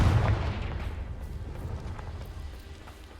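A Confringo fire spell cast in the Hogwarts Legacy video game bursts with a loud low boom at the start, then a long rumbling decay that slowly fades over a few seconds.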